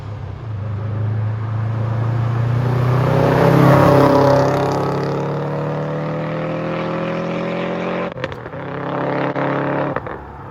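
Car engine on a track day drive, a steady droning note that swells in pitch and loudness mid-run, then dips and picks up again, close and continuous with no talk over it.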